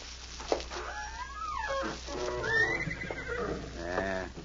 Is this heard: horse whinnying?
yes